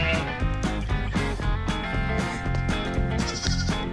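A goat bleats repeatedly, its cries nearly buried in a dense layer of music and busy noise, heard as wavering calls under the loud mix.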